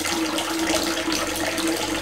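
Water from a spout splashes steadily into a tilapia pond, a continuous broadband rushing with no talk, loud and close.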